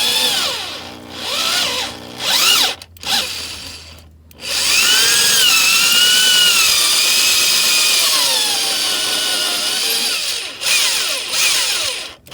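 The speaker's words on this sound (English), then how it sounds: "I guess what I'm going to try next is a left-handed drill bit" A power drill with a left-handed drill bit, drilling into a broken exhaust manifold bolt on a Chevy Silverado, whines loudly and steadily, its pitch rising and falling as it bites, with brief pauses and a long sustained run in the middle.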